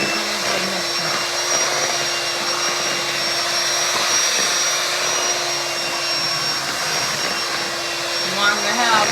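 Electric mixer whirring through cake batter in a home kitchen, a loud steady motor whine held throughout, with a person speaking briefly near the end.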